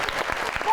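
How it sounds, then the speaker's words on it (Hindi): Studio audience applause on a television talk show, a brief burst of clapping at moderate volume that swells slightly toward the end. "साढ़े तो पिछे ही तालियां बजी ने।"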